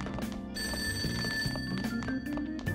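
A telephone rings downstairs in the video game Persona 5 Royal, a steady repeating electronic trill that pulses over quiet background music, heard at moderate volume with no talking.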